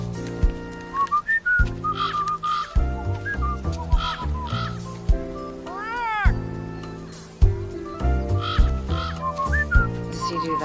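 A melodic whistled tune plays over a musical backing, with rising and falling notes in steady phrases, loud and close.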